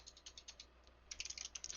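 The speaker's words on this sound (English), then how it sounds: "He's typing in all caps, by the way." Fast typing on a computer keyboard, heard as rapid light clicks in short uneven bursts, faint and close, with a brief pause before a denser flurry of keystrokes.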